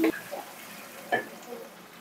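Onion and panch phoron hitting hot oil in a pan, a couple of brief sizzling bursts with light stirring, fairly close and otherwise quiet.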